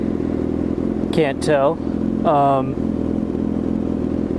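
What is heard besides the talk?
motorcycle engine revving with M4 exhaust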